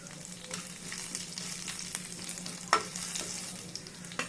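Mustard seeds, cumin, urad dal, chana dal and dried red chilies frying in hot oil for a tempering, a steady close sizzle with small pops and crackles throughout, no talking.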